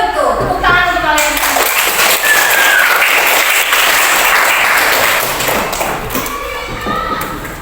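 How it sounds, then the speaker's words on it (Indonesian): Close, loud clapping from students in a classroom, a dense burst of hands with some thumps and taps that swells and then slowly tapers off. "Tepuk tangan untuk kalian."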